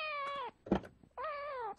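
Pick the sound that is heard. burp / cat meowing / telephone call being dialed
cat meowing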